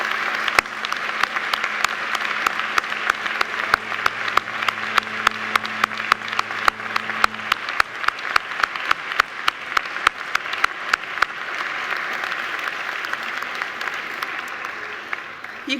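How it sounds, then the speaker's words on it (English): Graduates applaud their families at a Macquarie University graduation ceremony, a long stretch of sustained crowd clapping in a large hall, steady and fairly loud with sharp individual claps standing out throughout. "Now please give them a very big round of applause for getting you where you are today."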